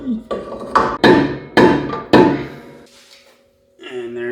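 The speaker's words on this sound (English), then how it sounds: "You can hit the rotor." A hammer strikes the rear brake rotor of a Mazda Miata MX-5 four times in a steady rhythm, each blow a loud close metallic clang with a ringing tail, followed by a brief pause and a voice.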